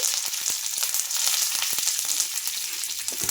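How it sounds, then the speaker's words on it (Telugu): Curry leaves sizzle and crackle in hot oil, a steady close frying hiss with scattered sharp pops throughout. "ఇప్పుడు కరివేపాకు వేసుకోవాలి"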